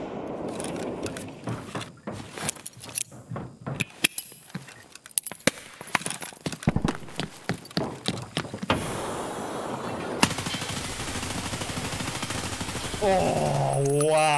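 Rapid gunfire bursts in the video game Escape From Tarkov, a dense string of sharp cracks and short automatic volleys that give way to a steadier roar near the end.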